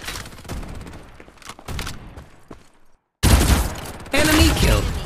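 Gunfire from the video game Farlight 84: bursts of rapid shots with thuds under in-game voice callouts, then loud sustained automatic fire dominating the second half after a brief silence.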